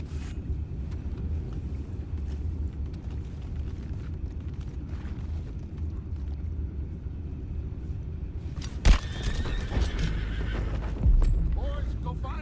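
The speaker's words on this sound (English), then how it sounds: "go find out about those horses down below" Horses whinnying and hooves clip-clopping in the video game Red Dead Redemption 2, a steady low trample of hooves with occasional neighs and a couple of sharp thuds near the end.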